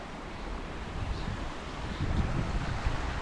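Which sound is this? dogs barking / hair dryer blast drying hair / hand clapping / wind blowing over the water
wind blowing over the water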